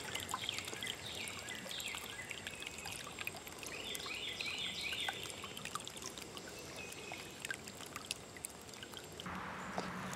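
Water pours steadily into a plant tray holding tomato and pepper seedlings, a continuous trickling splash lasting throughout with a brief change near the end.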